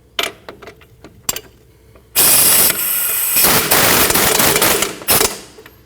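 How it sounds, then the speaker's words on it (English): Power tool tightening the bottom bolt of a front camber kit on a 2012-2016 Honda CR-V: a few light clicks and taps, then a loud sustained buzzing rattle of about three seconds that cuts off, followed by a short final burst. "Now you want to tighten your bottom bolt."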